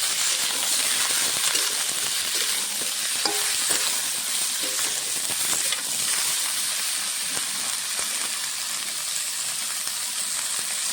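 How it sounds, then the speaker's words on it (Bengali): Mixed vegetables and lightly fried dal sizzle loudly in a pan, with continuous close frying crackle and intermittent stirring clatter, no one speaking. "দিয়ে ভালো করে ভেজে নেবো সবজিটা"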